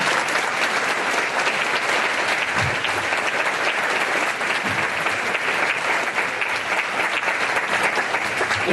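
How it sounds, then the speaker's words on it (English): A comedy club audience applauds after a stand-up set, steady sustained clapping from a room full of people filling the whole stretch without pause. "Round of applause."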